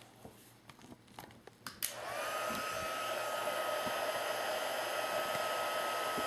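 A heat gun melts iridescent ice embossing powder on a card, first a few small taps and clicks, then a loud steady blowing whir that runs continuously to the end without talk.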